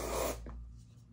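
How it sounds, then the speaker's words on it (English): A Dove deodorant aerosol sprays onto an armpit from about arm's length in one short close hiss that cuts off sharply and leaves near silence. "Just hold it about arm width away and spray, and it's going to get all over your pit."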